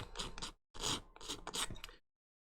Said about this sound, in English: You're never going to see under these feet, but I'm sanding them anyway.